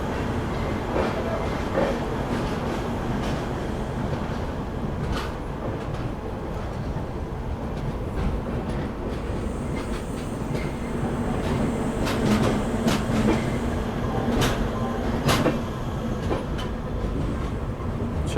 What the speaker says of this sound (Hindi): चलिए निकल गई ट्रेन अपनी विजयवाड़ा जंक्शन से।